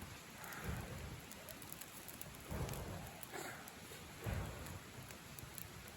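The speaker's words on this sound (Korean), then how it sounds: "비가 와서 나무가 다 젖어가지고" Steady rain falls at a family campsite, a continuous hiss of drops with soft low rumbles swelling every couple of seconds, heard alone with no talk.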